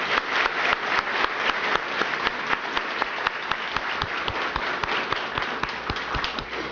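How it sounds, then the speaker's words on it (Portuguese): An audience claps for the mothers present at a lecture on family peace, with a steady wash of applause and sharp individual claps standing out nearby for the whole stretch. "uma salva de palmas para as nossas mãezinhas, por favor"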